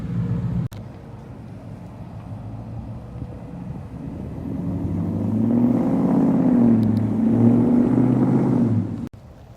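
A car with a freshly installed ported intake pulls away with a low, steady engine rumble that swells as it accelerates, heard from close by with no talk.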